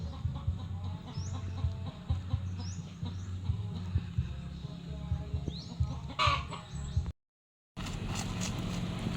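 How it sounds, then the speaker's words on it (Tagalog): Backyard chickens cluck and murmur continuously nearby, with soft calls repeating over a low steady background, a short gap of silence near the end before the clucking resumes. "Ayan na po yung manok ato."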